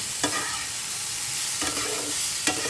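Potatoes frying in a pan at home, with a steady close sizzle broken by a few brief scraping stirs of a spatula.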